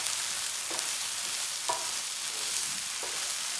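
Fried rice with egg and a little chili being stirred through in a hot frying pan. A faint, steady frying hiss runs throughout, with a few soft scraping strokes at irregular intervals and no talking.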